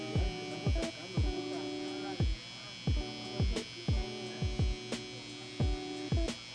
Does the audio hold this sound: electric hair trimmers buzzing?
yes